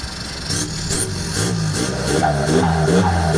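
An Isuzu D-Max 3.0 pickup with a modified exhaust routed to exit ahead of the axle gives a raspy, pulsing engine note that builds and grows rougher near the end, with no talk.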